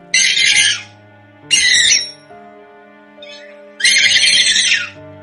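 A parrot gives three loud, harsh squawks, each about half a second long and separated by pauses, close and clear against a quiet background.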